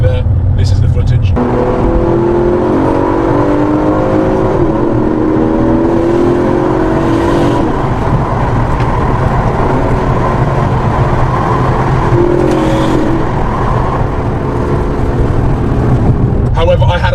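An Aston Martin DB11 engine drones steadily as the car drives through the Hatfield tunnel, with a loud, sustained hum and shifting tones that echo off the enclosed walls throughout.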